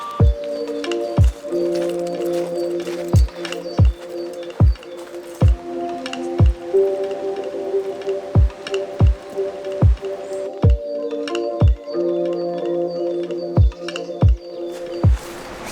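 Rain near Silver Run Waterfall in North Carolina: heavy drops strike a surface close by in a loose, repeating rhythm of distinct thuds, over a faint steady hum.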